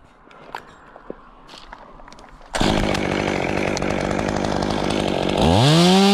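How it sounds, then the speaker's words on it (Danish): A chainsaw cuts during a tree removal by an arborist, starting abruptly after a few seconds of quiet rustling and footsteps, then running loud and close with a rising whine toward the end. "Åh, jeg saver lidt."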